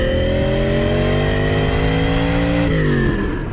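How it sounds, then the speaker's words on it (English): A Ferrari 308-derived V8 with a cross-plane crank, fitted in a front-wheel-drive Lancia sedan, rumbles loud and close, revving steadily higher before a shift drops the pitch near the end. "The 308 engine was given a cross-plane crank that changed the high-pitched Ferrari sound into a low rumble more suited for a sedan deluxe."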